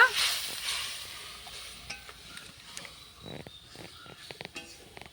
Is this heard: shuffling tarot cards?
no